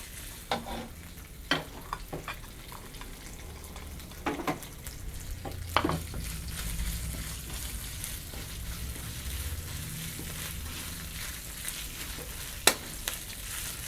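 Stir-frying fingerroot in a little oil in a wok, with a steady low sizzle and scattered sharp scrapes and clanks of a spatula against the pan, no talking.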